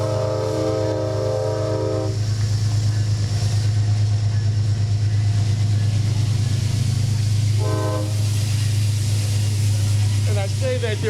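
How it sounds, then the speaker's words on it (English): A long train rolls past at close range, a steady low rumble of wagons on rails with a horn sounding at the start, again briefly near the end, and a final rising squeal, heard alongside an outdoor ribbon-cutting ceremony. "The train is never this long when I'm on it."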